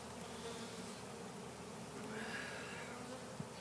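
A honey bee swarm fans on a porch, giving a steady, even drone that carries on unbroken and fairly soft throughout, with no voices over it.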